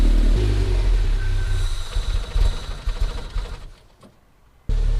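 An MG TF VVC with a smoky start and a sticky accelerator revs loudly up close. The rough engine roar then fades away and cuts back in abruptly near the end.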